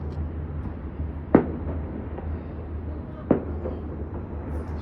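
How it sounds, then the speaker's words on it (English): Fireworks exploding at a distance, two sharp booms a couple of seconds apart over a low rumbling background. "Oh, that's the fireworks!"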